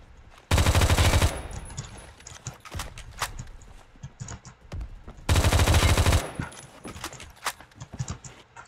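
Two long bursts of rapid automatic M4A1 rifle fire in a video game, loud and close, each lasting about a second, with sparse clicks and shots between.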